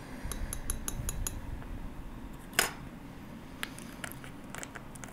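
A small tool scoops Fine Line Black underglaze on a tile, making quiet, close scraping and light clinking, with one sharper clink midway and soft ticks around it.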